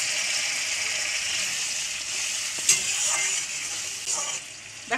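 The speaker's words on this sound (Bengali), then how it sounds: "আমি এর ভিতরে গরম জল দিয়ে দেবো" Hot water poured into a frying masala for a tilapia fish curry: a steady, close sizzling hiss throughout, with a few faint stirring clinks of a utensil against the pan.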